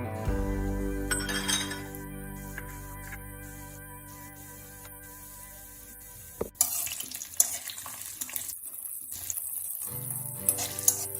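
Tempering spices for gongura pachadi are dropped into hot oil and sizzle, with the clink and scrape of stirring in the pan. The sizzle grows louder and busier in the second half, and no one speaks.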